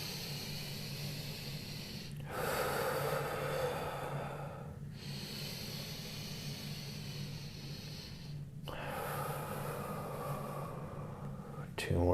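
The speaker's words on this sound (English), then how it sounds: "So big breath in." A person draws deep, audible breaths during a morning yoga wrist warm-up, long hissing inhales and exhales in slow repeated waves, close to the microphone with a bit of talk.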